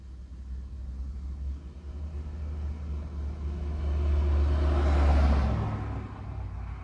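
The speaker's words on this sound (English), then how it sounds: "It sent a car by." A car approaches and drives past, a low rumble building gradually to a peak around five seconds as it passes close by, then fading away, heard alone with no talking.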